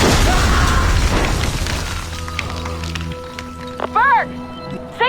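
A bomb goes off in Assassin's Creed Rogue, a loud low boom at the start that rumbles and fades, followed by game sounds and a short mechanical whine, with voices over the blast.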